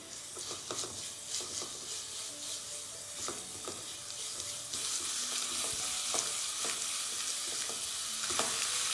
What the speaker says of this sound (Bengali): তারপর রসুনের সাথে এটাকে ভালো করে একটু ভেজে নিন, আর পেঁয়াজটা দেওয়ার পরে আপনারা ফ্লেমটাকে হাই করে দিন।